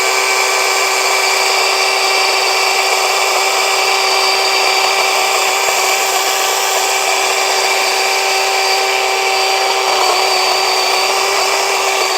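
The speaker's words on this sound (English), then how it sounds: "let's see how well this chainsaw actually works" A loud, steady whine of a battery chainsaw runs continuously close up as it cuts through storm-damaged tree branches, with no talking.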